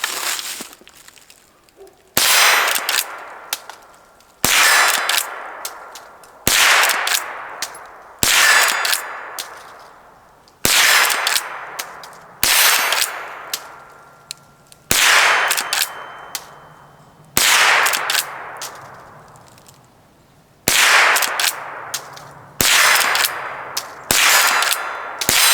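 A Henry .22LR lever-action rifle fires .22 rounds, about a dozen sharp cracks at irregular intervals of one to three seconds, each followed by a short ringing decay, loud and close with no talk.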